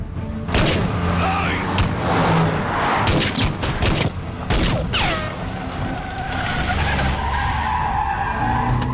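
During a film action chase, a car speeds with screeching, skidding tires. Loud engine roar and repeated tire squeals sweep past, with sharp impacts mixed into the dense noise.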